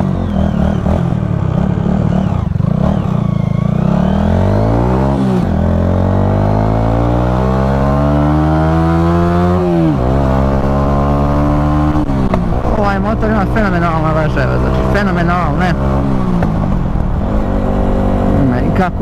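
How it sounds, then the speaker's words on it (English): Honda motorcycle engine revving hard on the road, its pitch climbing through the gears in long rising sweeps, with loud wind rumble over the ride and a rider talking. "Idemo još jedno da razvučemo ovaj motor."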